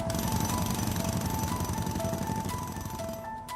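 Heavy drilling rig boring into the ground for soil testing at a refinery site in Barsu, a loud steady pounding rumble with a continuous mechanical whine, close and unbroken throughout.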